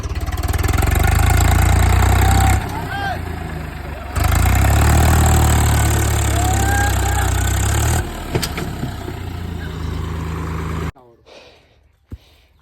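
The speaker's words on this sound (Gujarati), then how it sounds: "સારી ગાડી છે પણ થોડુંક જમી હવાઈ છે એટલે ટ્રેક્ટર ઉતરતું જાય છે" A tractor running on soft ground where it keeps sinking; a close, low, steady engine rumble cuts in and out in long stretches, then drops away to near silence at the end.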